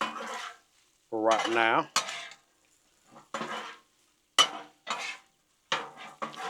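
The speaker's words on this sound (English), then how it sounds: "let's bring the bacon over to it. We'll mix all this together" Bacon is mixed with peppers, onions and sausage on a Blackstone griddle: a metal spatula scrapes and clatters in bursts close by, a soft sizzle underneath, with a short stretch of talk.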